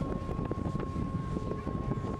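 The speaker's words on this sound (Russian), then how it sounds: "Ветер усиливается." Steady wind roars and buffets the microphone along the seaside boulevard in Baku, a dense rushing noise with a faint tonal hum running beneath it.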